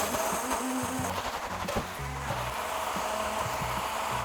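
A blender grinds sauce ingredients including chili flakes and tuna fish sauce for a pad thai, a steady loud whirring drone that holds for several seconds.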